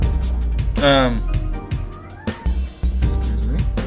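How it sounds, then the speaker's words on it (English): A pet cat meows loudly and close by with one long drawn-out cry, followed by shorter chirps and mews, while someone talks nearby during a football podcast recording. "My cat has something to say."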